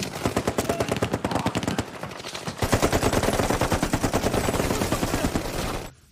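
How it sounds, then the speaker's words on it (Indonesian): Sustained automatic machine gun fire from an action film's police raid on a criminal hideout, loud and dense, with rapid continuous bursts that carry on for several seconds before cutting off abruptly. "Tiba-tiba musuh memberondongi mereka dengan peluru."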